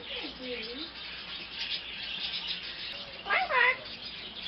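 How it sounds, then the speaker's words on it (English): A parrot makes short whistled, chirping vocal calls, with a brighter squawk-like burst near the end, over a steady background hiss; no clear human talk is heard. "Parrots can also talk."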